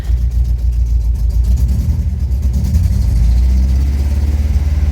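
Opel C20NE four-cylinder car engine running rough at idle and misfiring, a steady loud low rumble with an uneven, stumbling pulse throughout.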